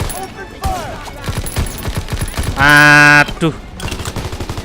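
Call of Duty gunfire bursting in loud, rapid volleys during a train-stopping mission, with a sharp sustained tonal blast in the middle and a voice reacting between shots.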